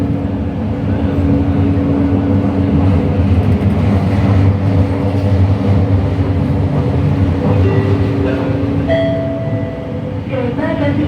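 Loud, steady rumble of a Jabodebek LRT train in Jakarta rolling along rails, with rattling carriages, a brief tonal whine near the end, and faint voices underneath.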